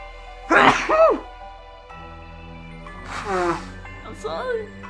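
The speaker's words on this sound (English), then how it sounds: "I'm gonna sneeze." A person sneezes loudly with a gasping buildup, then sneezes again a few seconds later, with quieter breathy sounds in between and a faint music bed underneath.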